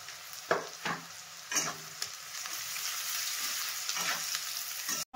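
Onions frying with salt in hot oil for mutton paya, a steady close sizzle with several sharp stirring scrapes along the way, no talking.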